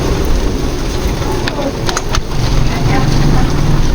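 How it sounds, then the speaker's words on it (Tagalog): Heavy typhoon rain pouring steadily, a loud continuous hiss of water on surfaces close by, with a few brief knocks. "Malakas konti ang ulan."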